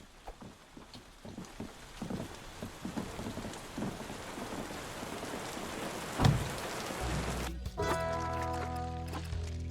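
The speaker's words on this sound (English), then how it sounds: "Seems we're in for a rainy night." Rain pours steadily through a night scene in the video game Tavern Keeper, with one sharp crack of thunder partway through and a low musical drone rising near the end.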